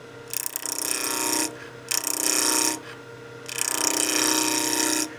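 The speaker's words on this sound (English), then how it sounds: "I'm going to start just doing some small peeling cuts here from the center towards the end" A spindle roughing gouge makes peeling cuts on a lathe-turned wooden Christmas gnome, giving a steady, close, buzzing whir in three sustained passes with short pauses between, alone without talk.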